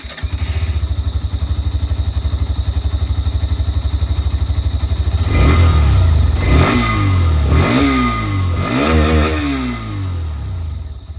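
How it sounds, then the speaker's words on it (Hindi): A Hero Xtreme 125R motorcycle idles with a steady, rapid exhaust putter, then revs several times in loud rising bursts before settling back down. "दोनों ही बाइक की जो एग्जॉस्ट साउंड है वो आप लोगों ने सुन लिया"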